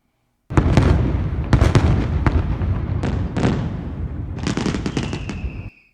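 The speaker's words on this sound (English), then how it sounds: "I think I deserve fireworks." A fireworks sound effect: a rapid volley of sharp bangs and crackling bursts rolling over each other for several seconds, loud and close, ending with a brief high whistle.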